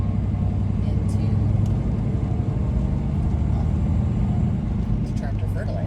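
Farm trucks loaded with fertilizer run nearby with a continuous low engine rumble, while a voice talks over the steady drone.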